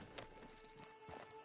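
Clip-clopping horse hooves in the video game Red Dead Redemption 2 Online, a few steady hoof strikes at walking pace, fairly close, over a low ambient hum with no talking.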